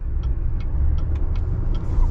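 A 2022 Chevy Silverado 3500 High Country diesel pickup engine running at low speed, a quiet low rumble heard from inside the cab, steady, with faint periodic ticking over it.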